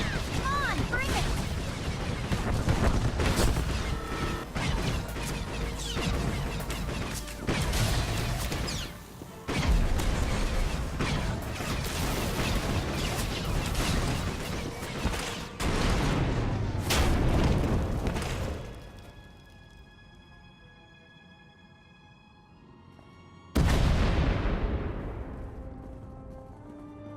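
Heavy crashes and booming blasts from Star Wars: The Old Republic pound in repeated loud bursts, then fade into a quiet ringing lull before one final sharp explosion that decays slowly.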